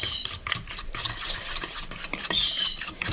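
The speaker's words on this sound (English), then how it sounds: "And we're just going to beat that in, just like you would any cornbread mix." Milk being beaten into cornbread mix batter for a beef casserole, a continuous wet stirring and scraping of utensil against bowl, close and steady for a few seconds.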